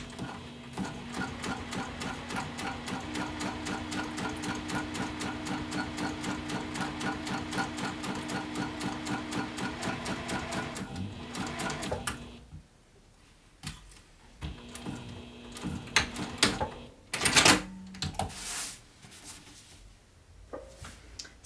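A sewing machine stitches a bag seam in a long, steady rhythmic run for about twelve seconds, then stops, followed by quieter handling clatter and a few sharp knocks.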